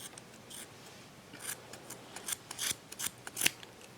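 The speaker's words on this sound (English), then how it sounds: "I'm going to slide some scissors inside one side of the loop and cut" Several quick, crisp scissor snips cutting yarn close up, growing more frequent toward the end, with faint rustling between them and no talking.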